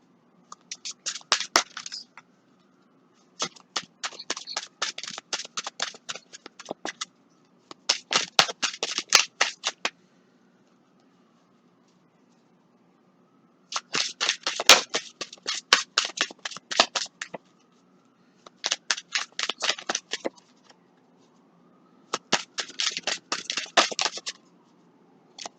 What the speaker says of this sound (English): Let me pull these cards.